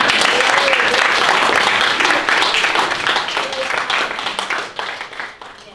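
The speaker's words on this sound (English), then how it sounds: "let's give her an applause" A crowd applauds at an event with the mayor of Huron, California, thick clapping that holds steady for a few seconds and then thins into scattered claps before fading.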